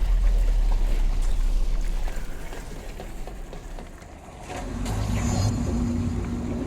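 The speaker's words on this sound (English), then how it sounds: "Activate the draining pump." A draining pump in Control starts up with a heavy low rumble and rushing, water-like churn, dipping briefly before a steady mechanical hum settles in alongside the flowing noise, with no talking.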